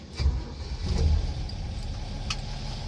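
A car engine cranks and catches after the key is turned, with a brief rise at the start, then settles into a steady, smooth low idle rumble close by, with a faint jingle of keys.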